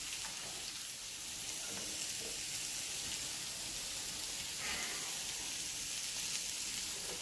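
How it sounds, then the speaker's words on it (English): Mushrooms sautéing in an omelet pan give off a steady, close hiss of frying that stays even throughout, with a faint scrape or stir now and then. "I'm going to do a quick saute of my mushrooms in my omelet pan"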